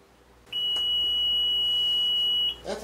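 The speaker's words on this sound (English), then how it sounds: "Set our alarm off." A house alarm gives a single shrill, steady electronic tone that holds for about two seconds before cutting off, fairly loud in a quiet room.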